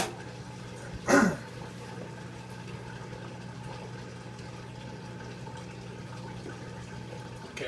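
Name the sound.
Maytag Neptune washer draining water on spin cycle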